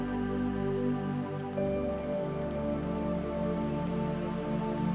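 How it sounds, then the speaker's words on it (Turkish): Rain falls steadily on a surface, a continuous patter over a sustained tonal background, with no voices. "Yağmurun sesini hisset."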